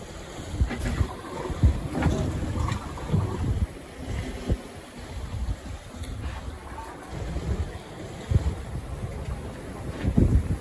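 A sailboat runs before a west wind along the Norwegian coast toward Rikefjord, with continuous wind buffeting the microphone, rushing water and sea noise, and occasional thumps and creaks on board.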